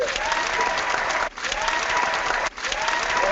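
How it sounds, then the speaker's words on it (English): An audience at a business training seminar gives dense, enthusiastic applause, a continuous close wash of clapping with two brief dips. "give Mark a round of applause."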